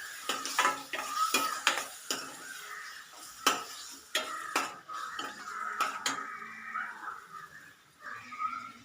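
Repeated metallic clanks and scrapes of a utensil stirring egg curry with roasted coconut in a metal pan, close and irregular, with a soft sizzle underneath.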